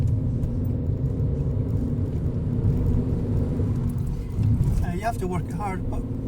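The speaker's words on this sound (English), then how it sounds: "It's actually quite a good wee engine in this car." A small Skoda engine runs steadily while the car is driven, giving a constant low rumble and drone heard from inside the cabin. A voice talks briefly over it near the end.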